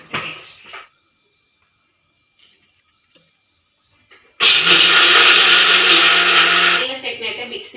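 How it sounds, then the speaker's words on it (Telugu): A mixer grinder loudly whirs through peanut chutney with a bit of coconut powder, a dense, close roar of about two and a half seconds after a quiet stretch. Brief speech comes before it, and the motor winds down into clattering at the end. "చట్నీ అయితే మిక్సీ పట్టిన"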